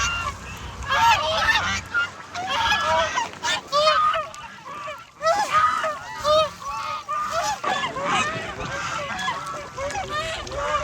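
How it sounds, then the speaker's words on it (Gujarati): Fish-catching water birds call near a lake, a flock honking and squawking repeatedly in overlapping bursts, fairly close, with faint background noise and occasional brief voices. "ગાઈસ આ પક્ષી છે ને માછલા પકડે છે."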